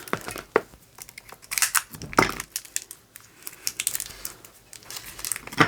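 Close crinkling and crumpling of paper packaging, irregular rustles and tearing bursts as it is handled and pulled open.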